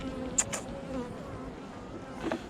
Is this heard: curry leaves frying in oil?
no